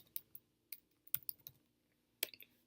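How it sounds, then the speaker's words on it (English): Someone types an address on a computer keyboard, producing soft, close, irregular key clicks in short bursts with brief pauses over a faint background hum. "So I'm going to type in 7 Frank Street."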